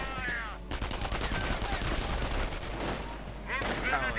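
Infantry firefight in a World War II strategy video game, with volleys of rifle and machine-gun fire crackling steadily at mid distance, punctuated by brief sharper bursts.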